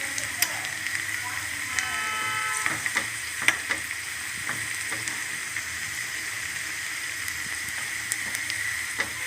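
Curry leaves crackle and sizzle in hot oil as they are stirred, a steady close frying hiss with scattered sharp pops and light utensil scrapes throughout.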